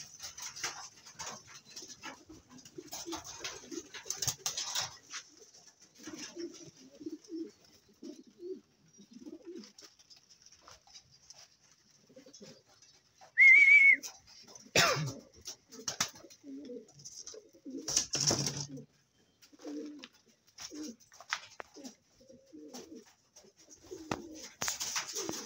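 Pigeons from a fancier's loft with birds flying around a tower, heard in an outdoor setting, with soft intermittent coos and bird calls plus a few sharper bursts and clatter over 25 seconds, with no speech.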